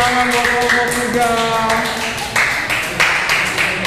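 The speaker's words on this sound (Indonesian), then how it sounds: "Tepuk tangan buat kelompok 3." A classroom applauds group 3 during a health and physical education lesson, with a short burst of scattered hand claps mixed with several voices talking and calling out nearby.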